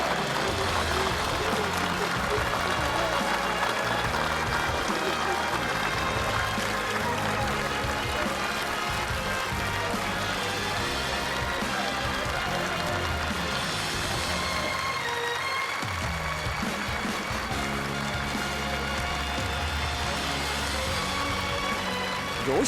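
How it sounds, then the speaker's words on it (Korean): Enthusiastic applause from participants at a memorial museum inauguration ceremony, a dense, steady wall of clapping sustained throughout with no gaps and a brief dip near the middle. "준공식 참가자들은 열렬한 박수갈채를 터쳐 올렸습니다"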